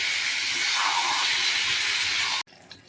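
Water poured into a hot pan, giving a loud steady sizzle and hiss that cuts off abruptly, leaving quiet kitchen sounds.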